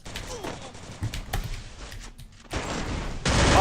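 Gunfire in a shooter video game comes as bursts of rapid shots and thumps that grow louder and denser toward the end, with a player talking faintly underneath.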